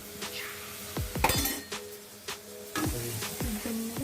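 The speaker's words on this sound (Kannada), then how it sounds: "ಶುಂಠಿ ಬೆಳ್ಳುಳ್ಳಿ ಪೇಸ್ಟ್ ಹಾಕಿ ಚೆನ್ನಾಗಿ ಫ್ರೈ ಮಾಡ್ಕೋಬೇಕು" Ginger garlic paste fries in a pan over medium heat, with short bursts of sizzling hiss mixed with sharp metallic clinks and scraping of a spoon against the pan.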